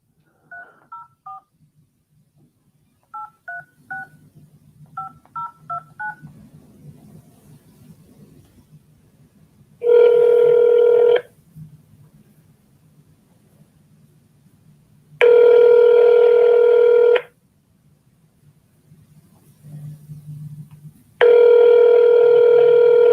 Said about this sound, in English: So let's go dial.